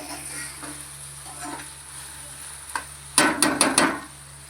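An ingredient dry-roasts in a pan with a soft, faint sizzle, followed near the end by a few sharp clattering scrapes of stirring.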